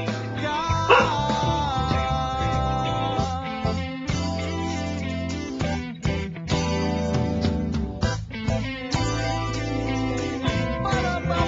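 A dog barks repeatedly in a busy, choppy burst of yaps and woofs, fairly close and continuous, with no clear talk over it.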